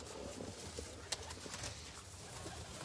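Taddy pigeons coo faintly in a low, murmuring rhythm against a quiet, hissy background, with a single soft tap partway through.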